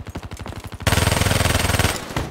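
Automatic weapon fire in Call of Duty Black Ops 3 during a Stronghold Domination match: a loud, close, rapid burst of gunshots in a steady rhythm, preceded by quicker rattling shots, with no voices.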